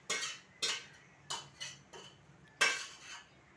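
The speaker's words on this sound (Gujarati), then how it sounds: "સરોજ અત્યારે વાસણને બધું ધોવાનું તૈયારી કરી રહી છે" Dishes and utensils clatter while being washed, five distinct clinking knocks of steel vessels spaced about half a second to a second apart, close by and with no talking.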